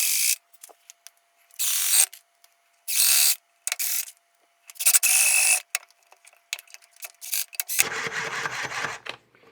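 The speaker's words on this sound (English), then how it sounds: "So not only are the screws going into the wood, but they're going at an angle which gives you greater holding power." Screws driven at an angle into wood with a power driver, heard as several short whirring bursts of a few seconds each with pauses between, close and fairly loud, followed by a longer grinding run as a screw seats tight.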